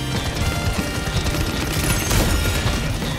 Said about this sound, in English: I'm just shooting randomly